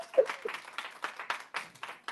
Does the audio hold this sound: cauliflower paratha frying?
no